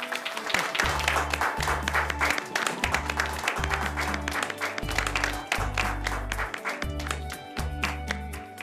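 An audience at a ceremony where guests are welcomed breaks into loud, sustained applause that carries on throughout, while low music chords pulse underneath at a steady rhythm.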